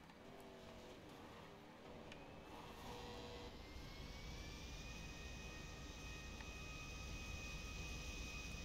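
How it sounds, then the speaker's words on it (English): A very large plane's engines drone in the Grand Theft Auto Doomsday Heist, a steady, rising jet roar with a high whine that holds unbroken throughout, fairly quiet and alone. "This is a very big plane"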